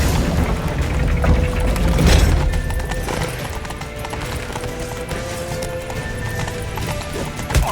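Horse hooves gallop at speed in The Witcher 3, a steady pounding rhythm under a dense battle din with booming impacts and distant shouting throughout.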